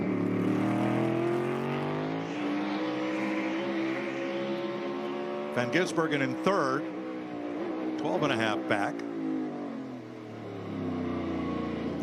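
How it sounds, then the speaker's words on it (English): NASCAR race car at Circuit of the Americas lugging its engine up off a slow corner with no first gear, a low strained drone swelling as cars pass, heard beneath race commentary. "this car does not have first gear, so you hear it really luggy up off the corner"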